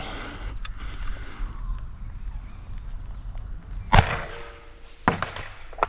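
Two or three sharp pops from a Nerf blaster firing worker darts through a tracer unit, each a quick close shot standing out from a steady background rumble.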